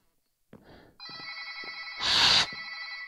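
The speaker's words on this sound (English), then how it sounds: "Someone answer the phone!" A telephone bell rings in a loud, continuous electronic trill after a couple of soft knocks, swelling briefly louder mid-ring, close by with no one speaking.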